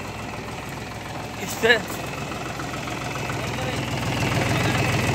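A Mahindra 265 DI tractor fitted with a 2-metre Fieldking rotavator idles with a steady, even diesel drone. A brief louder clank interrupts it early on, and someone talks over the engine.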